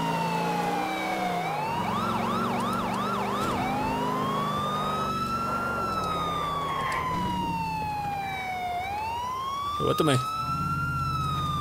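Wailing police car siren in the video game GTA IV, sweeping up and down continuously in the foreground, with a brief yelp pattern and someone speaking briefly over it.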